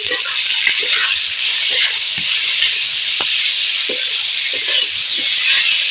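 Spices for a katla fish and potato curry fry loudly and continuously in a pan, a dense, close sizzle with light stirring scrapes throughout.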